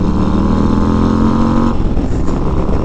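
A 2022 Harley-Davidson Road Glide ST bagger motorcycle on the move, its engine a loud, close, steady rumble with a pitch shift partway through as the rider changes throttle or gear.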